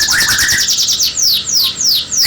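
A canary chirps rapidly, with quick, bright descending trills repeated in bursts, close and loud with no talk.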